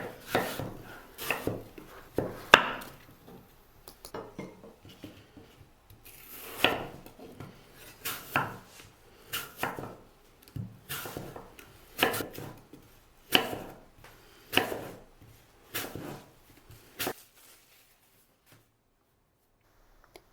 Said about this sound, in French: Coupons ensuite les pommes en fines lamelles.